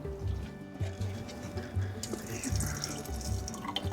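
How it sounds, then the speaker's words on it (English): Liquid whey drains and trickles from ostkaka curds, a steady pouring with a rhythmic low gurgle and drips, close by, with no speech over it. "Sometimes it makes too much whey, and then we still drain some off."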